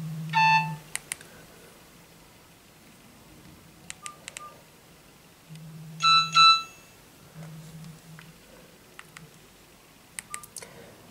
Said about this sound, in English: Message alert tone standard or off or beep once or use the ringing tone.